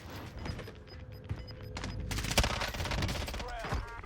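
Rapid FINN LMG bursts in the Warzone game on Rebirth Island, dense automatic fire with sharp cracks peaking midway, mixed with in-game sounds and a voice speaking.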